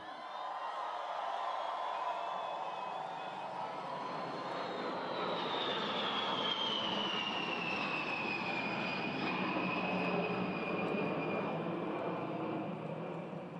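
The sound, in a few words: B-52 bomber flying over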